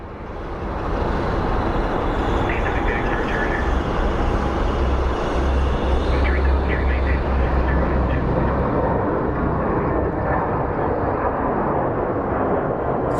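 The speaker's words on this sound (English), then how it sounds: "Over there, we do have a JSX Embraer 135 landing." A JSX Embraer 135 regional jet landing at Phoenix Sky Harbor International Airport, a broad, steady roar of jet engine noise that rises quickly and holds at a constant level, heard from a distance.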